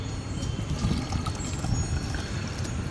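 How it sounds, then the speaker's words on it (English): Pond water poured by hand onto the soil of a potted Maranta leuconeura kerchoveana houseplant, a steady low splashing trickle lasting the whole moment, close by with no talking. "I will just take the water and put it onto the soil like this."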